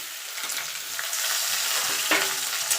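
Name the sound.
potato, papaya and vegetables frying in hot oil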